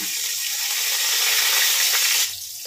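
Nigella seeds and slit green chillies sizzle steadily in hot oil, a loud continuous hiss that eases slightly near the end, with no talking.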